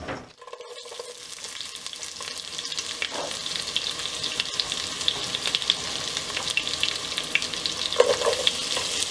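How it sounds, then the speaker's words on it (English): Three tablespoons of butter melt in a soup pot with a continuous crackling sizzle that builds after a quiet start, close and steady, without any talk. "I'm putting 3 tablespoons of butter into my soup pot, and I'm just gonna let that melt down"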